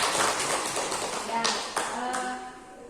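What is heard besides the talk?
clapping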